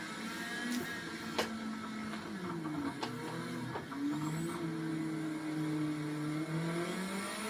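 A fast car's engine revving in a video game race, a steady droning roar whose pitch climbs and falls through gear changes, with a few sharp clicks over it.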